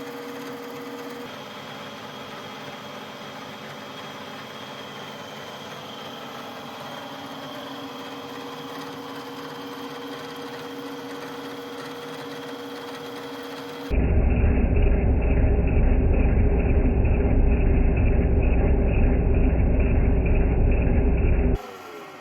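A metal block is machined in a workshop: a steady mechanical whir with a high tonal whine runs for a while, then gives way to a much louder, harsher grinding drone before stopping abruptly, with no voices.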